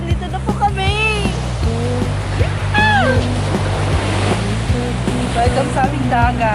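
Sea waves wash onto a beach as a steady broadband surf roar, close and continuous, with people talking and exclaiming over it.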